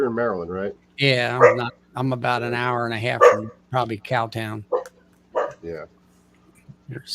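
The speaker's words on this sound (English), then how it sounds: "Who's doing the barking?" A dog barks from another room of a house, its short barks partly buried under close, ongoing conversation.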